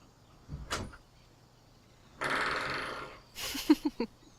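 A door opens or closes once in the background during a game commentary, a brief rumbling slide followed by a few short knocks and clunks, fairly faint.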